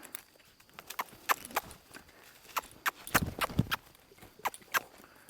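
Horse hooves clopping in a series of uneven steps as the horse backs up, fairly close, with a louder scuffing thud in the middle and a faint voice now and then.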